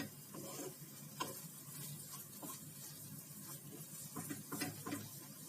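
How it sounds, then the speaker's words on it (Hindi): Khoya (dried milk) being roasted and stirred in a pan, giving a steady soft sizzle with scraping stir strokes throughout, close and moderately quiet, with no talking. "पर इसको मैं अभी थोड़ा सा भूनूंगी"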